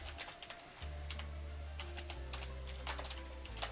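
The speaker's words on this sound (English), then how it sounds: "My fingers are super cold, so forgive my typing." Rapid, irregular clicking of keys typed on a computer keyboard, close and fairly quiet, over a low steady hum with no talking.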